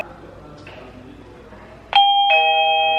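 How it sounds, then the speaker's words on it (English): A doorbell at a house gate in Visakhapatnam rings with two bright electronic chime tones in quick succession, loud and close, ringing on after faint room noise. "there is this bell that we have, we ring it"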